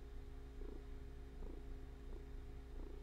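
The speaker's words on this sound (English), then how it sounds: "You might be able to hear my cat purring." A pet cat purring close by, a soft rhythmic rumble that swells in regular pulses about every three-quarters of a second over a steady low household hum.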